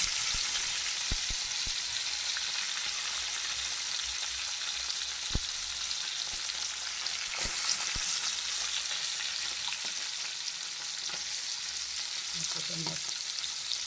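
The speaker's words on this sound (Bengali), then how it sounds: "লাল করে ভেজে নিই" Meat frying in oil in a small wok, a steady close sizzle that runs throughout with a few sharp crackles and pops scattered on top.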